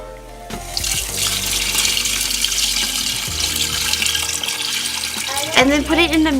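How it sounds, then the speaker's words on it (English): Water runs steadily from a tap into a pot for Thai boat noodle broth, a continuous loud splashing stream that shifts in pitch near the end as the pot fills. "And then I'm gonna add the water."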